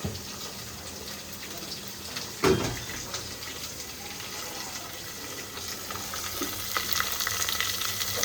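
Onions and curry leaves frying in oil in a home kitchen make a steady, moderate sizzle. A sharp clatter breaks in near the start, and the hiss swells slightly toward the end.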